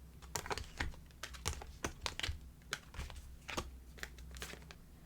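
Tarot cards being drawn and shuffled, a steady run of quick, close papery snaps and flicks with a faint low hum beneath.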